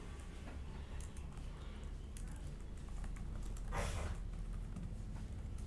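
Data being typed on a computer keyboard, heard as faint, fairly quick key taps under a constant low hum, with one brief louder rustle midway and no one speaking.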